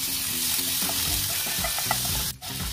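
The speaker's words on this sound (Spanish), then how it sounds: "En nuestra sartén vamos a agregar un poquito de aceite de oliva y vamos a dejar que se caliente. Ponemos el ajo, ya picadito." Chopped garlic fries in hot olive oil in a pan, giving a dense, steady close sizzle while being stirred.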